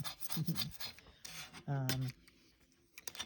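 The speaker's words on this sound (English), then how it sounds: "I didn't tape it off because the mirror was pretty dirty, so I'm just scraping it" A blade scrapes across a dirty makeup mirror in short rasping strokes, close and fairly quiet, with a voice-like tonal squeak partway through.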